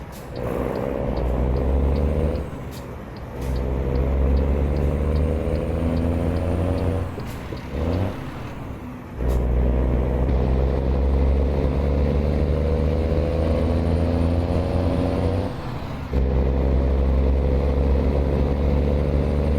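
Cummins 3406E straight-piped truck engine in American Truck Simulator, a loud, steady low rumble that rises and falls through gear changes, with brief dips at shifts and a few ticking clicks, no talk.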